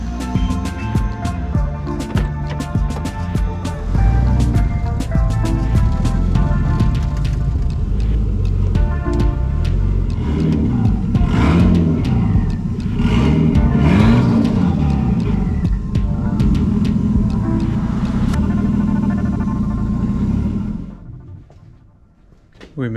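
A Nissan 240SX S13 rumbles and revs at low speed as it is pulled into a garage, its engine steady and close for about twenty seconds before cutting off abruptly near the end, with faint voices mixed in.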